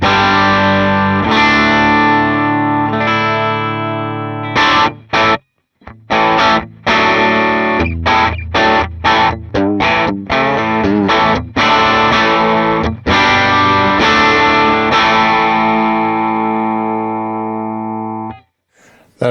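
An electric guitar runs through a Headrush Clubman amp model on older software, giving a distorted, chorus-tinged tone: long ringing chords, then a run of choppy stabbed chords with short silences between them, before a final sustained chord fades out.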